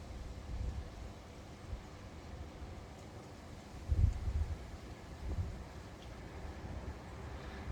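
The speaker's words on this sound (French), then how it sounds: "C'est le vent juste derrière que j'entends, là, dans l'arbre qui est là-bas au bout." Foehn storm wind blows through a tree some distance away, a steady low rushing roar with one brief stronger gust midway and a softer swell after it, no voices.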